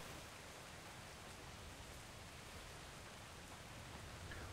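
Steady rain falls in the video game Atlas, a dense, even hiss of drops that holds constant throughout, moderately quiet and with no voices over it.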